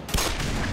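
A gunshot fired in the Black Mesa video game: one sharp blast near the start, followed by a dense, sustained burst of noisy gunfire-like sound with no voices.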